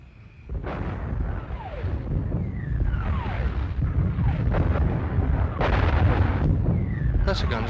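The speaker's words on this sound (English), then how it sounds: "That's a gun to the Second Army." Artillery fire in a wartime setting sounds as repeated deep booms and rumbling blasts over a constant low roar, some heavier bursts standing out, moderately loud and not close.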